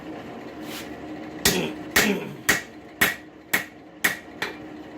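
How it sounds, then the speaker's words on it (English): Seven sharp metallic blows of a planishing hammer on a hot farrier's rasp ring out at a steady, slightly quickening pace, close and loud, each with a short ringing decay. "Planishing."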